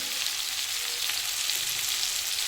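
Cauliflower and potato frying with dried chilli in a pan for a poppy-seed dish, a dense, even hiss of sizzling oil, close and steady throughout, with no voices.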